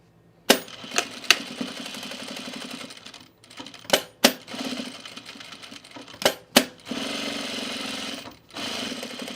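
A sewing machine stitching a jacket pocket flap for a men's utility jacket: short whirring bursts of stitching broken by sharp clunks and pauses as the fabric is pivoted.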